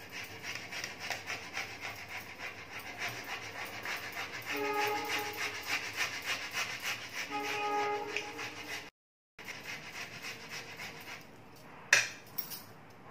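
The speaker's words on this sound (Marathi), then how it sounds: "बटाटे किसून घेऊया आधी." Potatoes are grated by hand for a fasting-day amaranth puri dough, producing quiet, regular rasping strokes in a steady rhythm, with a brief pause near the end.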